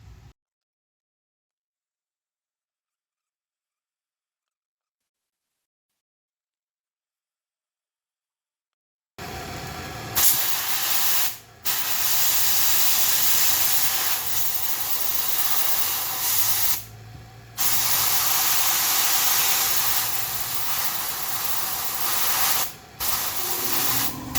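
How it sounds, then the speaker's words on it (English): Compressed air blasts into a heated aluminum brake caliper from a Seca XJ750 front brake, a loud continuous hiss that starts after a long silence and cuts off briefly a few times between sustained bursts. "I'm going to heat this aluminum up just around the piston. Then I'll shoot it with air, and it should come right out."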